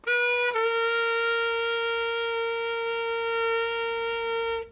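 A single harmonica note, the three-hole draw bent down a half step, held steadily and alone for several seconds after a brief unbent start, clear and close with a bright reedy tone.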